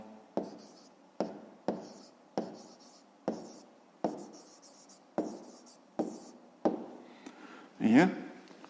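A pen or pencil writes out a math answer on paper in a series of evenly spaced strokes, quiet and close, ending in a longer scratch.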